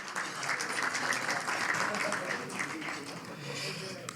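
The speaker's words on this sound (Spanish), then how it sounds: "Pedí un fuerte aplauso para el Club Peñarol" Applause for the Club Peñarol football club fills a hall at a Rioplatense award ceremony, a sustained crowd clapping at moderate volume with a few voices mixed in.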